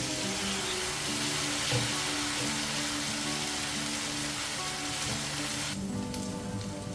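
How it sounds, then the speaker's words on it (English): Eggs cook in melted butter in a pan for an omelette, giving a steady, close sizzle with crackling fry that continues throughout without talk. "So we cook the eggs on low to medium heat."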